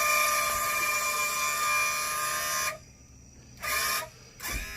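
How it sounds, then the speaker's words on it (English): A boat's outdrive trim motor on a 2002 Chaparral 220 SSI with a Volvo Penta SX drive runs on its own from a faulty switch, a steady electric whine that cuts out, then returns in two shorter bursts. "That was the trim going all on its own."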